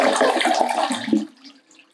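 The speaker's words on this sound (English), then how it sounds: "Now go ahead and flush your toilet to get rid of all the dye so it doesn't stain your bowl." A household toilet flushes nearby with a loud rushing swirl of water that drains away after about a second, leaving a faint refill trickle.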